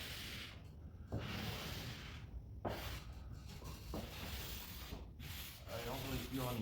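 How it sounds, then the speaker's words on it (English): A felt-edged squeegee rubs a vinyl decal onto a RAM TRX truck hood, giving repeated close, dry scraping strokes in a steady back-and-forth rhythm, fairly quiet and with no talk over it. "you have to keep squeegeeing it until it sticks"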